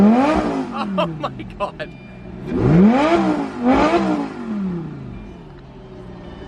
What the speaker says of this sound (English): listen to how loud this is when you actually rev it